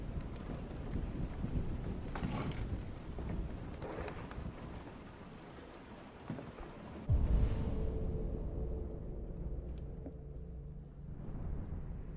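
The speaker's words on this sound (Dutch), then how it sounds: "Ik hoor voetstappen." In the video game Detroit: Become Human, footsteps thud unevenly over a windy outdoor ambience, followed by a sudden low bump and a quieter, still stretch; no one speaks.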